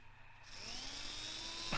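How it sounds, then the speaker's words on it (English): High, whining drill boring through a lock, the sound from a Supercar puppet episode: the motor spins up with a rising pitch, then holds a thin steady whine, faint and brief, with no voices. "he's drilling through the lock with his umbrella"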